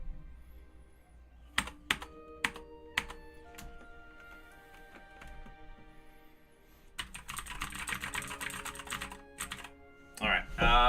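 Computer keyboard keys clack nearby, first as a few sparse separate presses and then as a quick, dense run of rapid typing, ending with a couple of louder strokes.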